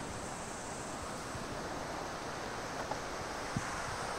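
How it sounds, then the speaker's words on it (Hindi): Steady broadband rushing of water flowing below in a forest, continuous and fairly faint, with a couple of small knocks near the end. "नीचे नीचे पानी जा रहा है गाइस"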